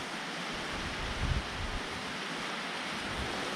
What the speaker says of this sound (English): It's pouring rain out here this morning